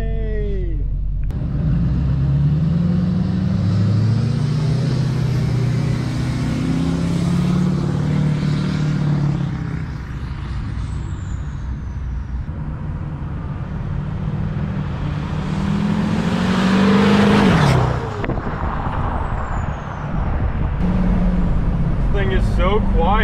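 A Duramax-swapped GMC Yukon with a 4-inch straight-pipe exhaust rumbles loudly with a deep diesel drone, rising and falling through revs as it drives, with people talking over it.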